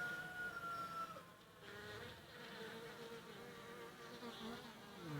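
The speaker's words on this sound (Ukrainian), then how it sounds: "Бджолки доглядають за нею" A steady, faint hum of many Italian Cordovan honeybees buzzing together on a hive frame, with a few individual wing drones rising and falling above the soft swarm sound.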